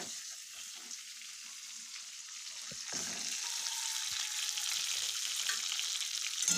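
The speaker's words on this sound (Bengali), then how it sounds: "ডিমগুলো এখন লাল লাল করে ভেজে নেব।" Shelled boiled eggs fry in oil in a wok with a constant hissing sizzle that grows louder halfway through, dotted with occasional light pops and taps.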